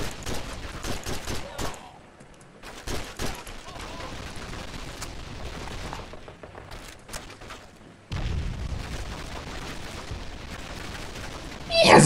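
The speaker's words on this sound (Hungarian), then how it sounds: "Mi ez a lövészet?" Call of Duty 2 Big Red One gunfire at Crucifix Hill: dense bursts of rifle and machine gun shots with booming explosions, sustained battle noise throughout and a loud rumbling blast near the end.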